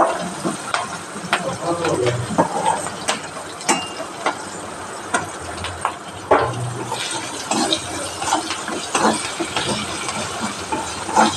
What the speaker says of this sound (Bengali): পেঁয়াজটা ভালো করে ভাজবো যতক্ষণ না লাল হয়ে আসছে